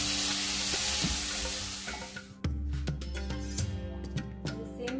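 Chopped colourful capsicum frying in a pan with a fish tawa fry recipe, a loud close sizzle that suddenly flares and crackles as the pieces go in, with scattered spatula clinks.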